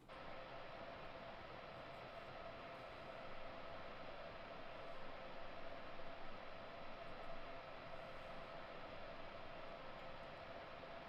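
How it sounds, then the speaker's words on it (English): Steady broadband rumble of a train running through West Baltimore station in a train simulator game, a constant even wash with a slight swell midway and no voices. "This is what West Baltimore looks like as a train goes through"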